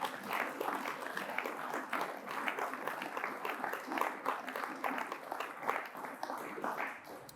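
Audience applause for the Plus belle Laï political movement at a rentrée speech, a dense, steady wash of many hands clapping that runs the full length with no pauses, even and moderately loud throughout.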